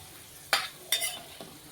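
Cashews and raisins frying in a pan for rava laddu, heard as faint sizzling broken by three quick stirring scrapes close by.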